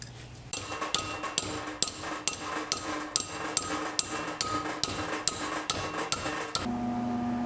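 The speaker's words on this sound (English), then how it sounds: "So I'm going to put a bend in both of them" Metal shock mount brackets for a 1972 Honda CB450 cafe racer are bent with steady, sharp hammer-like strikes, roughly one or two per second, loud and close, ending in a lingering hum.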